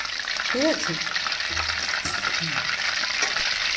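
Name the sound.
soybeans frying in oil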